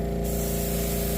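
An airbrush fed by a compressor with a reservoir sprays paint onto a Tamiya 1/14 Ford Aeromax model truck body, making a steady close hiss over a constant low mechanical hum.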